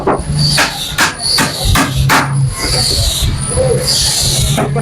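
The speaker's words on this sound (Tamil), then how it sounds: "இப்போ பாக்ஸுக்கு வந்து ஆணி அடிச்சுக்கலாம்" Nails are hammered into a plywood speaker box frame, a series of sharp close knocks in an uneven rhythm, with other workshop noise underneath.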